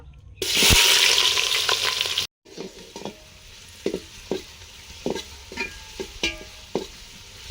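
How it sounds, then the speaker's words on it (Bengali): Loud sizzling burst as onions hit hot oil in a pot, frying for biryani, then quieter steady frying with repeated scraping stirs at a regular rhythm. "প্রথমে ভাজছি পেঁয়াজ বেরেস্তা করার জন্য।"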